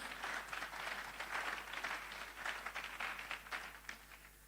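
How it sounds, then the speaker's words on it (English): An audience at a money summit applauds a guest, producing a fairly faint, continuous wash of many hands clapping with gentle surges, heard from some distance over a low hum. "A round of applause for Mr. Wisdom Ezekiel. Put your hands together for him."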